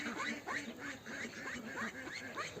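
A duck quacks repeatedly in a farmyard full of geese, ducks and chickens while a rooster mounts it, a steady run of rhythmic nasal calls close by with no talking.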